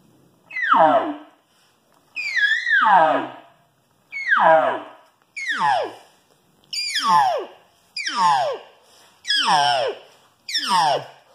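A voice imitates an elk cow estrus call, eight separate rising-then-falling mews spaced about a second apart, each ending with a slight wavering vibration, loud and close with no other sound.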